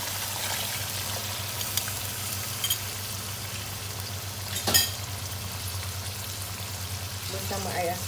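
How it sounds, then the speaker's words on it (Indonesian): Sizzling in a frying pan as blended liquid goes in while cooking asam pedas, a steady crackling hiss throughout with a brief louder burst of spattering near the middle. "Kita akan letakkan air yang dalam blender tadi."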